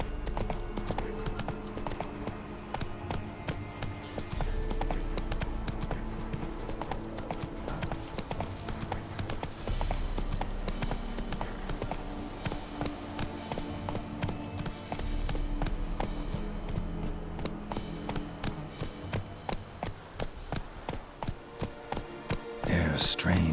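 The horse Roach gallops in The Witcher 3, with steady, rapid hoofbeats clip-clopping close and loud for the whole stretch, over a low game ambience with occasional faint voices.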